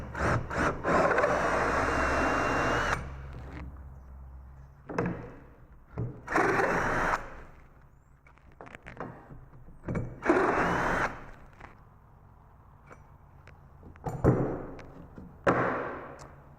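A power drill boring holes into a wooden jig for crown molding, several whirring bursts of a few seconds each with quieter gaps and a few knocks of wood in between, close by with no talking.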